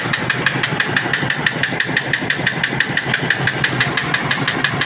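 An Isuzu Alterra engine runs rough with a misfire, producing a loud, steady, uneven knocking pulse close by throughout, with no talking over it.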